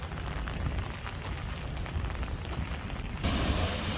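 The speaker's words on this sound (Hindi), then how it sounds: "तो बाहर बारिश देखें कितनी ज़्यादा हो रही है" Heavy rain pouring down outside, a dense steady hiss and patter that swells a little louder toward the end.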